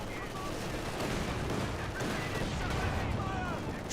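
MG42 machine gun fire in the World War II strategy game Company of Heroes 2, dense battle noise with continuous bursts of gunfire blending into a loud, steady combat din.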